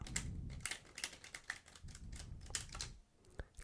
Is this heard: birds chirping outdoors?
no